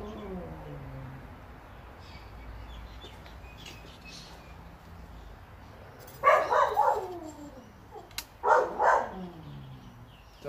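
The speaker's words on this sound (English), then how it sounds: "Dog's going crackers." A dog barks at a distance in two short clusters of quick, sharp barks over a quiet background hum, with no talk.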